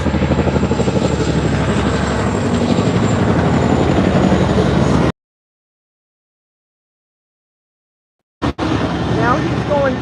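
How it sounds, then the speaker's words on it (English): A firefighting helicopter flies back toward a lake to collect more water, its loud, steady rotor roar suddenly cutting to silence for a few seconds before resuming. "And then in about 2 or 3 minutes, you'll see another helicopter coming back."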